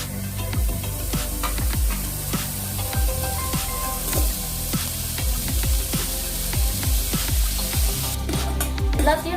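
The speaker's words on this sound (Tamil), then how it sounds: "எல்லாத்தையும் நல்லா வதக்கிட்டு 2 மினிட்ஸ்க்கு நல்லா வதக்கிட்டேன். மஷ்ரூமே தனியா ரிலீஸ் பண்ணுது." Mushrooms and vegetables sauté in a pan for a roadside mushroom soup, sizzling steadily with repeated scraping and stirring strokes at close range.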